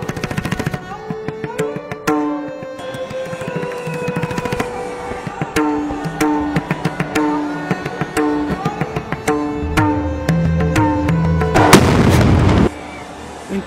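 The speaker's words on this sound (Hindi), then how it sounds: "इन तोपों की भारी गड़गड़ाहट से सारा नाथद्वारा गुंजायमान हो उठता है।" Ceremonial cannons fire for the Janmashtami festival at Nathdwara: a long run of loud, sharp booms in irregular succession over a sustained tonal background, ending in a dense roaring blast.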